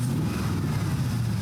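A Ford hot rod with side-pipe exhaust and mufflers idles close by, giving a steady, deep low rumble that holds an even level throughout with no voices.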